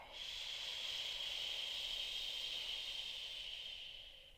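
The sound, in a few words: breath exhaled with a shushing SH sound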